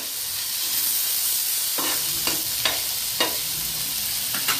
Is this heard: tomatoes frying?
yes